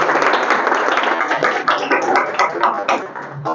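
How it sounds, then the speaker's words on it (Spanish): Audience applause at a lecture on inflation in La Paz, a steady, dense spread of clapping that lasts the whole few seconds and thins slightly toward the end. "Un aplauso, por favor."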